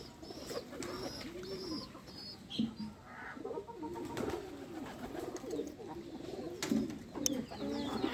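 Pigeons coo repeatedly in soft, rolling calls close by, with scattered clicks and rustles around them.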